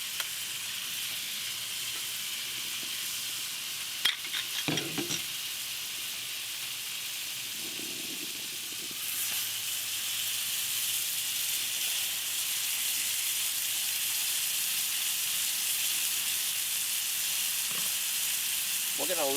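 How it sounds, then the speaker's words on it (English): A piece of butter sizzling on a Blackstone griddle, a steady hiss that swells louder partway through and then holds, with a few faint clicks and scrapes early on. "I'm going to put a piece of butter on the griddle"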